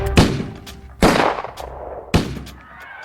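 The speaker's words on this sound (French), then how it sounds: "3 coups de feu." Three loud gunshots crack out one after another about a second apart, each echoing briefly before fading into quiet.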